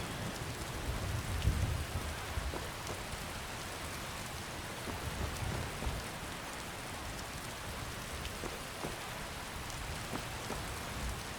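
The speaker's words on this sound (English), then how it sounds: "Even though it's raining" Rain falling in the video game Skyrim, a steady soft patter of drops on surfaces that continues evenly throughout, with a faint low rumble early on and no voices.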